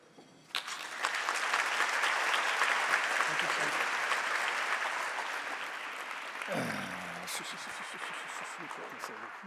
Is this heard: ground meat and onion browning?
no